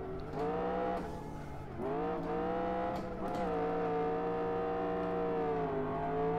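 A BMW M3 GTR drifting in a racing video game: a revving engine climbs and dips in pitch through the slides, with touches of tire squeal, fairly quiet and steady.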